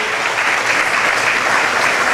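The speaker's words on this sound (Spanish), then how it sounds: "Pido un aplauso para mi compañera que hace una gran labor" Sustained applause for a colleague at a civic gathering, a dense, even wash of many hands clapping throughout, loud and steady with no pauses.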